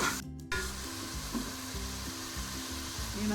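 Masala spices with salt and red chili sizzle and fry in a pan for an aloo matar curry, with rhythmic stirring scrapes repeating under the steady crackle, close and moderately loud.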